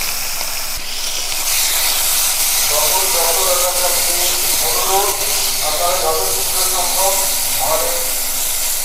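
Salted, washed potatoes hit a little hot oil in a pan for a potato and onion dish, giving a loud, steady hiss and sizzle throughout while a person talks over it.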